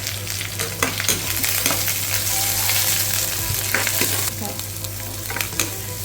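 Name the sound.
shallots sautéing in pan for uppumavu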